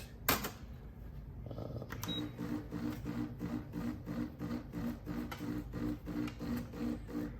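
HiBREW H10A brushed stainless steel espresso machine brewing espresso, a steady rhythmic pump pulsing close up after a sharp click, quiet and mechanical with no talking.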